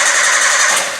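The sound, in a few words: fuel-injected car engine cranking with starter but not starting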